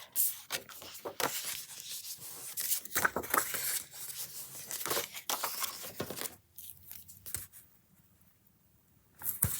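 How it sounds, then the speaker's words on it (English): Tear tape is pulled and torn along the paper flap of a journal, producing a stretch of close, crinkly ripping and rustling that stops abruptly into near silence before a final burst. "So I'm going to bend it back and forth and add some tear tape"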